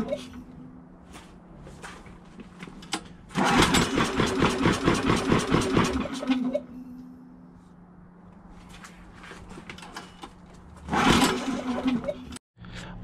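A Champion 3400 generator cranks with loud rapid pulsing bursts after carburetor cleaning, settling into a low idle between attempts, with someone talking over it.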